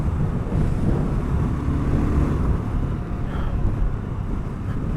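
BSA Goldstar 650 motorcycle cruising at motorway speed in fifth gear at a little over 4,000 RPM, a steady loud engine drone blended with heavy wind rush throughout.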